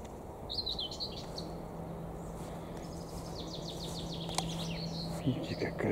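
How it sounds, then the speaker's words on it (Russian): Nightingales and other songbirds sing in a spring garden, their bright chirps and trills repeating at a moderate distance over a steady low hum of background noise. "Как соловьи поют, да?"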